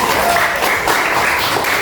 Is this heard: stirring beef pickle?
no